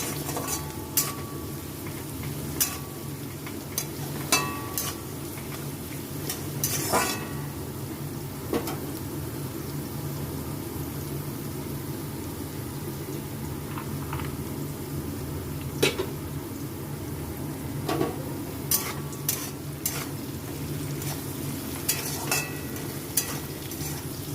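Continuous frying sizzle in a pan as cashews and raisins fry, with scattered utensil clinks and scrapes from stirring, close and steady, with no speech.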